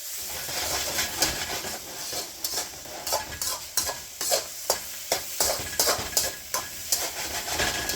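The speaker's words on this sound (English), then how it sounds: "It's important to keep the ingredients moving so they cook but don't burn." Fried rice ingredients are stir-fried in a hot pan, a constant close sizzle broken by rhythmic scraping strokes of a utensil against the metal, repeating steadily throughout.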